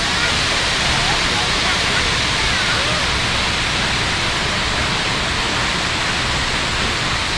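Water rushes down Curug Bangkong waterfall in Kertawirama village, Nusaherang, Kuningan, making a loud, unbroken roar of white noise that fills the whole scene.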